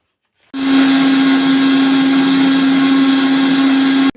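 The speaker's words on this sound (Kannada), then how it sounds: "ಇದನ್ನೆಲ್ಲ ಜಾರಿಗೆ ಹಾಕಿ ರುಬ್ಬಿಕೊಳ್ಳಬೇಕು" An electric mixer grinder jar whirs steadily as it grinds grated coconut and spices, switching on abruptly to a loud, constant high whine with a hard motor hum, then cutting off after about three and a half seconds.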